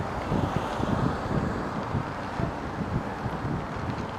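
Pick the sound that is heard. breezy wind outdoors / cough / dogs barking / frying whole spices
breezy wind outdoors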